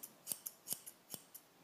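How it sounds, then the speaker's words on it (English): Sharp thinning shears trim a puppy's brow fur during a grooming session, giving a handful of quick, crisp snips spaced irregularly, close up and fairly quiet with no talking. "we're gonna take our thinning shears and we're just gonna come straight across"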